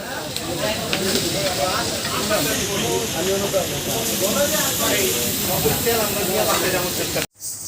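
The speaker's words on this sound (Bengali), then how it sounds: "এই হচ্ছে সেই পদ্মার ইলিশ ভাজা হচ্ছে আমাদের জন্য" Padma hilsa fish frying at a Mawa Ghat restaurant, a loud continuous hissing sizzle of oil with crackling spatter, with a busy background din and a brief cut at the end.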